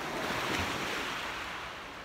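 Ocean waves washing onto the shore at Catalina Island, heard close by as a continuous broad rushing surf with some wind noise on the microphone.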